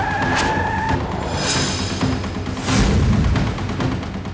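A car speeds off with tires skidding and squealing, an engine roar rising and surging over a few seconds, loud and close, with sharp screeches and bursts of skid noise.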